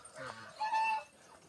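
A short burst of poultry calls from turkeys and chickens in a pen, a clucking hen with a brief higher tonal call, fairly faint against a quiet yard.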